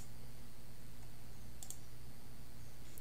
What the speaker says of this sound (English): So by clicking debug and start without debugging.